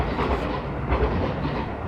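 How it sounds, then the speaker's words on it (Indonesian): A train rumbles past on the rails in a residential neighbourhood in Japan, a steady low roar with faint rhythmic clatter, moderately loud and without voices. "Tadi itu suara kereta ya, Sapo."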